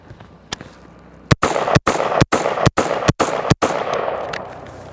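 A carbine fires a rapid string of about eight loud shots at three targets set far to near, with sharp evenly spaced cracks and a single earlier shot, outdoors and close by.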